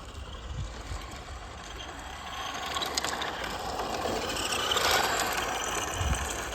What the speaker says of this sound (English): it'll spin its wheels up quite a lot before it gets any momentum